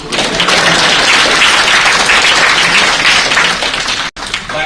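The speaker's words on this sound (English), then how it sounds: "Let's applaud for Brandon" Loud, dense clapping from a corporate awards panel audience, a continuous wash of many hands that cuts off abruptly near the end and then resumes briefly.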